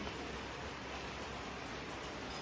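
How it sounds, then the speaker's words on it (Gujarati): Rain begins falling on a sunny day, a steady, even hiss of drops that holds at a constant level from start to finish with no voices. "હાલ તડકો હતો અને વરસાદ ચાલુ થઈ ગયો"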